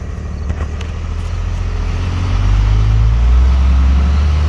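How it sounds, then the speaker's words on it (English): A 2nd Gen Cummins truck cruises in 4-wheel drive, its steady low diesel drone and road noise heard from inside the cab, building slightly louder partway through with no talking. "And we're cruising in 4-wheel drive."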